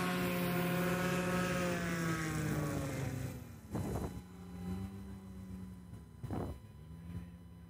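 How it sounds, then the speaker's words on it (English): A STOL airplane powered by a Yamaha 998 engine flies a practice run at a STOL competition, producing a steady droning engine tone that shifts in pitch as it passes, with bursts of wind noise on the microphone. "That's a Yamaha 998 making that sound."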